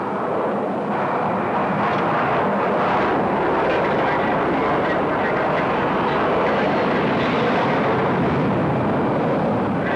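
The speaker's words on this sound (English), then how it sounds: "You'll hear Don say rotate when the pilot should begin to lift the nose." Loud, steady roar of jet engines at full power during takeoff, a dense continuous rumble and hiss filling the whole stretch with no voices.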